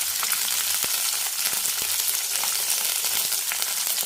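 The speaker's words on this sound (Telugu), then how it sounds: "పచ్చిమిరపకాయలు ఎరగదీసి వేసుకోవాలి, లేకుంటే కాలుతాయి" Green chillies sizzle steadily in hot oil, a dense, continuous frying hiss with a few sharper pops and crackles, close and fairly loud, with no voices.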